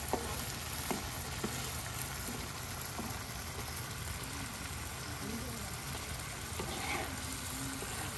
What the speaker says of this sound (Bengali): আমাদের দেশি মাছগুলা যেন টকবকে উঠছে